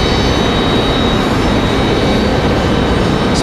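A Southwest Airlines jet aircraft near Raleigh Durham International airport, a loud, steady broadband engine roar that stays close throughout.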